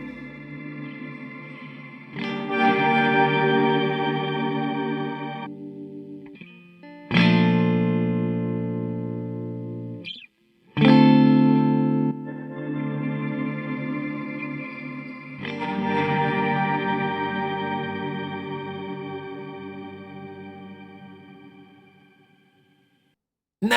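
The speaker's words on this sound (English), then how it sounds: "This effect is using 2 reverse pitch changers, with independent and adjustable delays and feedback, with a little bit of reverb" An Eventide PitchFactor pedal running two reverse pitch changers with delay and a touch of reverb, giving shimmering processed guitar chords that swell, cut out, and restart in several phrases before fading out at the end.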